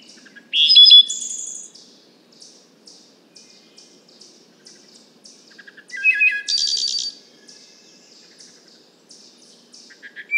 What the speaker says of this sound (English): a wood thrush from 70 feet away